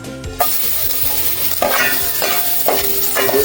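Ginger fries in a little hot cooking oil in a pan while being stirred, a loud, steady close sizzle broken by periodic scraping strokes of the utensil.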